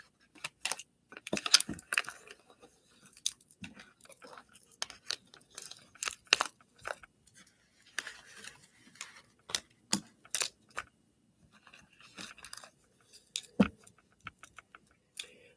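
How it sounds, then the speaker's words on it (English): Tarot cards are gathered up and reshuffled by hand, giving close, crisp papery snaps and riffles in irregular bursts with short pauses between them, and no talking. "pull all these cards up, reshuffle the deck"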